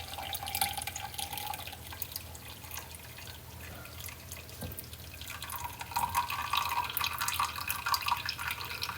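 Hot coffee pouring from a Hamilton Beach smart coffee maker carafe into a mug, a steady liquid trickle and splash running throughout at moderate level, with a brief clink midway.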